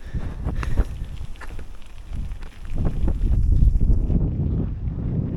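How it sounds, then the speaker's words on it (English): Heavy wind buffets the microphone on a hilltop in rumbling, uneven gusts that swell louder midway, with no one speaking. "But it is quite windy, so I hope the audio sounds alright"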